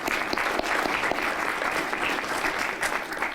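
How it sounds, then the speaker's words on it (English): Steady, dense audience applause at a US Army Atlantic Resolve 2019 event, loud and continuous clapping from a crowd filling the whole moment without a break. "So round of applause for him, please."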